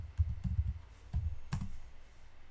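Typing a command on a computer keyboard in a Linux terminal: a short run of close, soft key clicks in small clusters, then a quieter pause.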